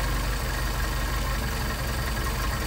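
A Mercedes 190SL at idle has its Solex carburetor adjusted. The engine hums low and steady close by, with no talk and only a slight unevenness rather than a clear drop.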